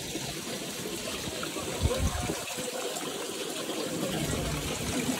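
Holy spring water flows and trickles at a temple site in Bali, a soft continuous watery rush heard close by with faint background murmur.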